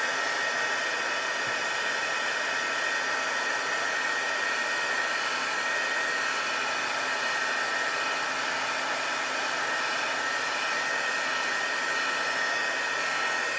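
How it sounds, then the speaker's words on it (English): A heat gun blows steadily to dry ink on a handmade card, a loud, constant whooshing hiss close to the mic that runs unbroken throughout with no talking. "Please excuse the sound of my heat gun."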